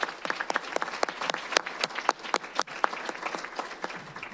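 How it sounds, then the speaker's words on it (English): An audience at a Rockford Public Schools board meeting applauds, dense close-up clapping with crisp individual hand claps standing out, brief and lively without talk. "Let's give them a big round of applause."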